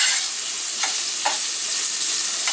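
Bacon sizzles steadily in a hot pan, a dense, even crackle with a few soft pops rising above it and no voices.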